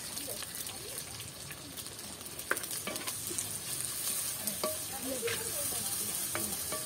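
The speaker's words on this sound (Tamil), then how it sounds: "தேங்காய் எண்ணெய் சூடாயிட்டது. இப்ப நான் வெட்டின வெங்காயத்தை போட போறேன்" Chopped onions frying in hot coconut oil for a village chicken curry in Jaffna, a soft constant sizzle with scattered crackles and the scrape of a stirring spoon, fairly quiet and without talk.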